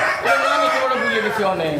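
A rooster crows once in a long, rising-and-falling call on a chicken farm, loud and close, with faint background murmur.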